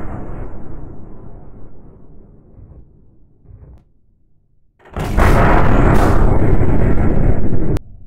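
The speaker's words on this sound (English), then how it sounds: "Fire one shell." A ship's gun fires a shell during a naval battle, a sudden loud blast that booms and roars for several seconds before cutting off, following a quieter stretch of rumbling background noise.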